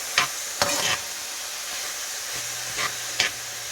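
Saltfish sizzles steadily in a pan while a utensil scrapes through it in a few sharp, separate strokes, close and fairly loud with no talking.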